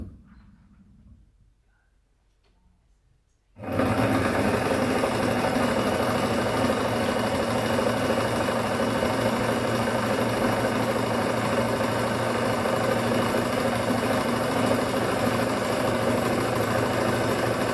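A sewing machine runs at home, starting abruptly after a few seconds of near-silence and then holding a loud, steady mechanical whir with a dense rhythmic chatter for the rest of the stretch, with no one talking.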